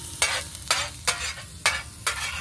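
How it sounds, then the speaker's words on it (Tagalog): Garlic sautéing in a hot pan for squid adobo, a constant sizzle broken by five or six sharp scraping stirs at regular intervals, close and loud. "ilagay po yung bawang"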